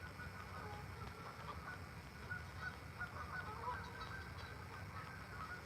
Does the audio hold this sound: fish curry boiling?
no